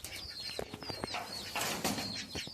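A hen clucks faintly in short, irregular bursts just before laying an egg, with light rustling and scattered sharp sounds around her at a quiet distance.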